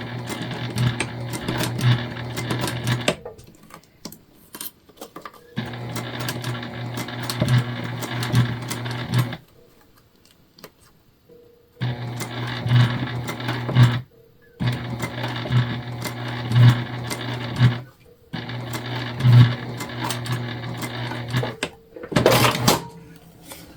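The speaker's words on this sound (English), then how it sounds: "Okay, we're just gonna get in there, sew it together." A sewing machine stitches together a pouch made from a placemat, running in several steady bursts of a few seconds each with short pauses between, close and loud.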